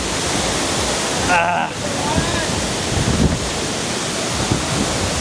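Kuang Si waterfall in Laos roars with a steady, loud rush of cascading water, carrying wind buffeting on the microphone and a brief muffled gap partway through.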